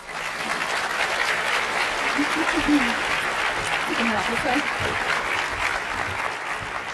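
Sustained applause from a conference audience for panelists at a general session, a steady wash of many hands at moderate level with some low murmuring voices underneath.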